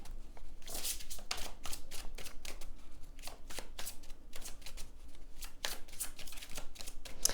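Oracle cards are shuffled by hand in quick riffling bursts, each a crisp close flutter of card edges, repeated in an uneven rhythm with short pauses and no talking.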